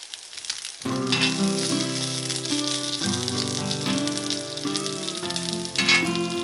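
Bacon sizzles and crackles on a cast iron grill/griddle, a bright, steady frying hiss with scattered pops that starts abruptly and carries on loudly and close up, swelling briefly near the end.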